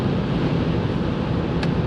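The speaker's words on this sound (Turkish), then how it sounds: "Rüzgar da var." Steady, rumbling wind buffets the microphone throughout while driving in a car, a constant low roar with no speech.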